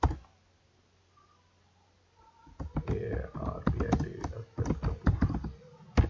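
Fingers type Python code on a computer keyboard in quick bursts of close, crisp key clicks after a quiet start, with a voice speaking intermittently over the tapping.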